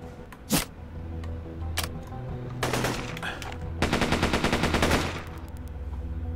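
Gunfire in the video game Dex: a few sharp single shots, then longer bursts of rapid automatic fire, with a steady game background underneath.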